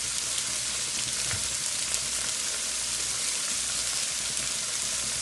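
Portobello and baby bella mushrooms sizzle in a pan, giving an even, dense hiss that holds steady for several seconds, close and uninterrupted by talk.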